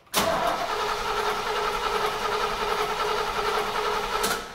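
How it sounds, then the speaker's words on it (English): A 1932 Ford coupe engine kicks into life after a brief crank, then runs steadily and loudly close by for several seconds before dropping off at the end, no talk over it. "So we're going to put our key, turn our key on, make sure she's in neutral here, and we're going to fire her up."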